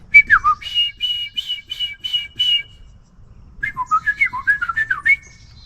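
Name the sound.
person whistling imitating a song sparrow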